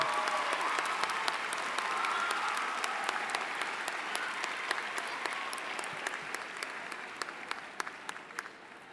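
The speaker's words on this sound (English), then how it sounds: "give them applause to show them that you're thinking of them right now and forever" High school graduation audience claps steadily in a long, even round of applause, heard from some distance, with individual sharp claps standing out as it gradually thins near the end.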